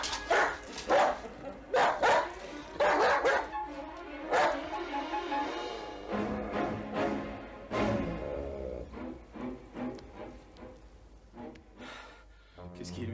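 A dog barks in short repeated bursts during a tense scene from a dubbed Amityville horror film, the yaps and gasps mixed closely with French dialogue spoken over them.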